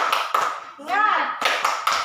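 A class claps in quick rhythmic bursts, with a chanted voice in between the sets of claps.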